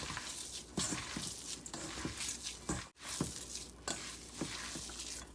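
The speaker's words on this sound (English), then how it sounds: "we'll just give this a mix until all the ingredients are well incorporated" A salmon patty mixture is mixed by hand in a bowl, giving soft wet squishing and slapping sounds in an uneven rhythm, close and fairly quiet, with no voices.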